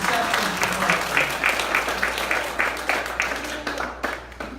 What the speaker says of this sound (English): Let's give a round of applause to the City of Atlanta's Department of Engagement.